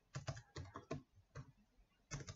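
Close, quiet clicking of a computer keyboard comes in short bursts of quick keystrokes with brief pauses between them as notes are typed.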